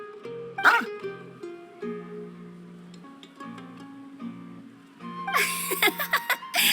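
A dog barks a few times in the video game Genshin Impact, short yips mixed with laughter and chuckling voices over light background music.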